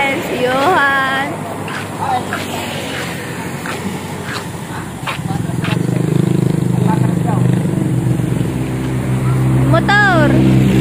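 A boat motor drones low and steady on a crossing toward Mindanao, growing louder and fuller midway, with excited voices calling out over it throughout.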